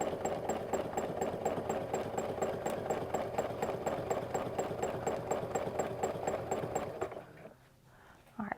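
A sewing machine does free motion quilting with a rapid, even needle clatter, loud and close. It runs for about seven seconds and then stops, leaving faint handling sounds.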